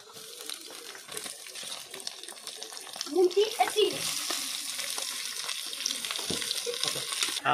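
Chicken meat frying in a pan with reddened onions, a steady close sizzle with stirring scrapes and brief watery bursts as the meat goes in, a voice speaking over it at times.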